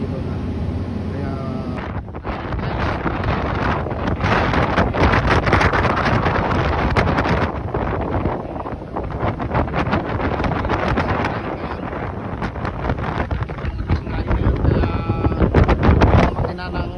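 Strong wind buffets the microphone on a boat in snowy Norway, a loud continuous roar with gusts, while a person talks over it.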